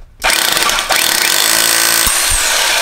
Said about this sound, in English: Ready to drill.